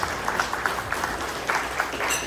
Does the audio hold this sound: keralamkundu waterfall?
no